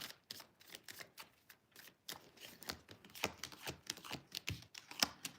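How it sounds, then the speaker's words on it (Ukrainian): Rapid, irregular crisp clicks and riffling snaps of tarot cards being shuffled, close by and quiet, with short pauses between bursts. "тасую карти"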